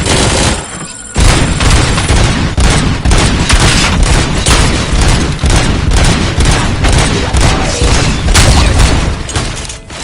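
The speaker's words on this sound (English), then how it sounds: "Gunshots? What's going on?" Rapid, loud gunfire in the RoboCop video game, dense overlapping bursts and booms that erupt after a brief quieter moment and continue relentlessly to the end.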